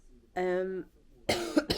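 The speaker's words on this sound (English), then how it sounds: "This cough needs to go." Two short, harsh coughs come right after a voiced sound, close to the microphone.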